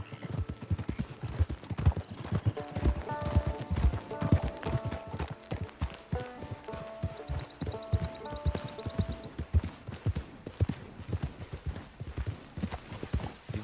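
Horse hooves clip-clop at a steady trot in Red Dead Redemption 2 Online, crisp regular beats carrying on throughout with soft game music faintly underneath.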